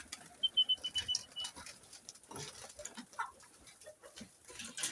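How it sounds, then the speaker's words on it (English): Kienyeji chickens in a poultry room give soft clucks, scratching and pattering around a quiet space, with a brief thin chirp and no one talking. "Here we have more chicken."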